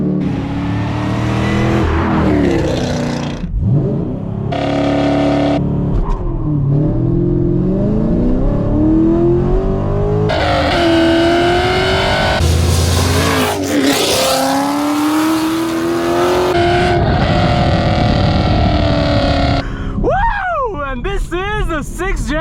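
A 6th gen Chevrolet Camaro SS launches hard, its V8 engine revving and roaring loudly through repeated rising gear pulls, with tire noise and someone talking excitedly over the engine.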